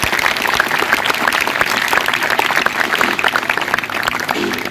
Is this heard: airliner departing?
no